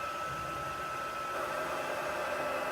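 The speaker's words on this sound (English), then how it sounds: "sorry for the noise, I'm just going to heat emboss this." Heat embossing tool blowing steadily to melt gold embossing powder on a card, a constant faint whooshing fan hiss with no break.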